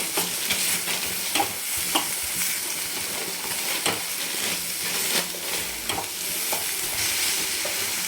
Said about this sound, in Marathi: कोथिंबीर टाकून छान मिक्स करून घ्यायचं